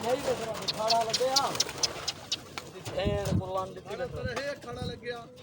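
Pigeons at a pigeon-flying gathering coo in soft, repeated bursts alongside birdsong, while people talk over and around the calls throughout.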